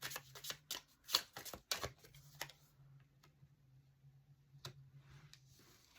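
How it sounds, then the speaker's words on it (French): Tarot cards being laid out on a table: a quick flurry of soft card slaps and flicks at the start, then a few sparse taps over a low steady hum, close and faint, with no talking. "je vais mettre 2 cartes supplémentaires."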